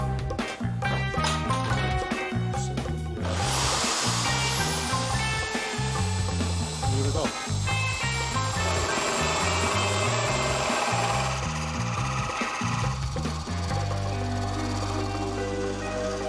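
A diamond core drill cuts into a glass crystal underwater, giving a steady, loud mechanical grinding drone with a whining tone that rises sharply and then holds. A short spoken remark comes near the start.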